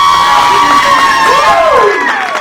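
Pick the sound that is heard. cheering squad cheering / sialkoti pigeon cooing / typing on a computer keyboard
cheering squad cheering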